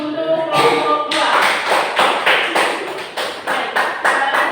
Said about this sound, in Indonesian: kita beri tepuk tangan dulu untuk kelompok 2